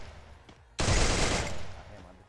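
Rapid automatic gunfire from a mobile shooter game running on the BlueStacks emulator bursts in loud and dense after a quiet moment, then sustains as a continuous rattle to the end.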